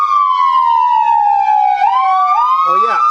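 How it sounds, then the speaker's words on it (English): A 2009 Sprinter ambulance siren wails loud and close, a long sweeping tone gliding down and then rising again, with a second overlapping siren tone joining near the end. "You can tell during the yelp, where it sounds like there's, an armada of ambulances coming, or fire trucks or whatever."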